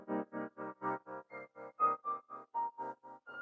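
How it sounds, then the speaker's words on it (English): An R&B pluck sample chopped into fast, even volume pulses by a fully wet tremolo effect, about four throbs per second, each plucked chord note pulsing on and off in a steady rhythmic stutter; no voices. "I just added one more effects rack with a tremolator on it."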